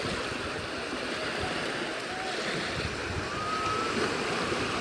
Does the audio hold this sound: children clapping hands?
no